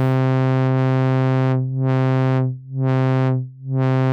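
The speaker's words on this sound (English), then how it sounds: "Follow this sine wave." A steady synthesized tone from a Nexus 5 app, with rich harmonics held loud and continuous while it dips in volume three times in a slow wobbling pulse, with no voices over it.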